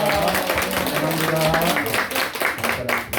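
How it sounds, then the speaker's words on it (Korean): Congregation applause during a Sunday worship service in a Korean church, a short burst of brisk hand clapping from many people, with a voice speaking over it. "다시 한번 한영의 박수를 드리겠습니다"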